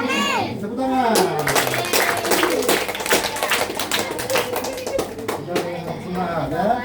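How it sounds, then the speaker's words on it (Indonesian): A group of worshippers at a home prayer gathering clap their hands together after a closing prayer, a steady dense patter of applause throughout, with voices and singing-like talk mixed over it. "Tepuk tangan"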